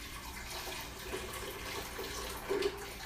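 Coffee poured into a cup makes a steady, close liquid splash and gurgle that runs continuously and swells briefly toward the end.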